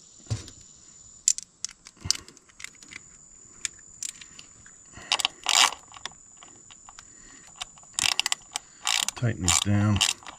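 A ratchet tightens bolts on a 1997 Toyota Century V12 engine, giving scattered bursts of close, sharp clicking with brief pauses between runs and a longer rapid ratcheting stretch near the end.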